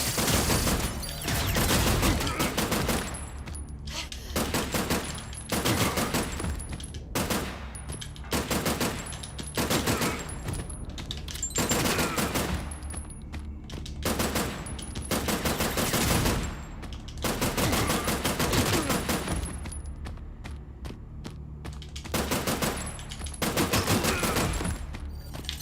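Rapid automatic gunfire from a video game rattles out in repeated long bursts separated by brief pauses, loud and close throughout with no talking.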